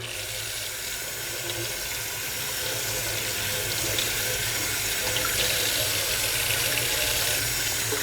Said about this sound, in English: if your filter's dirty, we're just going to wash it out